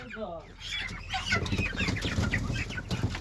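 A flock of broiler chicks clucks and chirps continuously nearby, with scuffling and rustling throughout.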